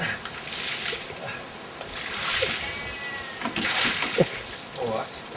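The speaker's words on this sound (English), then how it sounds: "When you throw the water at it." Water is thrown by hand over a Yamaha Virago motorcycle on a Dartmoor ride-out, splashing and spattering in several uneven bursts while people talk nearby.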